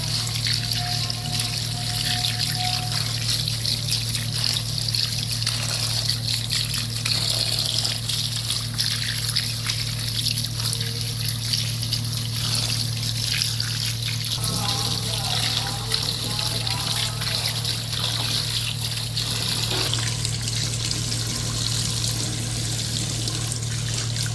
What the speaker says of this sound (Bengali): এবার পাতা এবং ডাঁটাগুলো ভালোভাবে ধুয়ে নিচ্ছি।